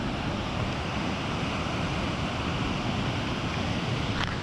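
Ocean surf on the Mexican coast at Zihuatanejo rolls in as a steady broadband roar of breaking waves mixed with wind, heard from a distance with no voices.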